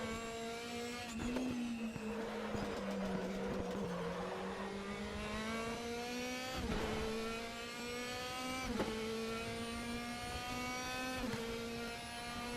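A race car at Zandvoort circuit holds a loud steady engine note, then blips and drops through several sharp downshifts with revving, braking for a hairpin, close and alone.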